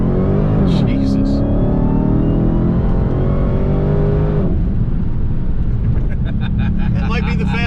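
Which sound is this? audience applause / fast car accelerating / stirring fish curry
fast car accelerating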